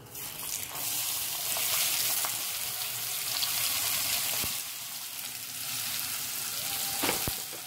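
Chopped onions dropped into hot oil with a pinch of asafoetida sizzle and fry steadily in a pan, a loud continuous hiss with faint scrapes and clinks, no voices.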